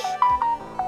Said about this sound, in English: I'm sorry, that's my phone, it's not you.